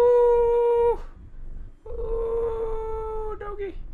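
In The Park video game, a dog lets out two long, wavering howls, loud and near, with a short break between them.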